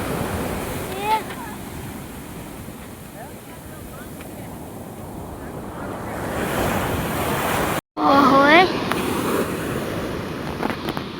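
Sea waves at Madhavpur beach roll in as a steady, loud surf roar with wind buffeting the microphone, a brief dropout near the end, and faint voices in the background.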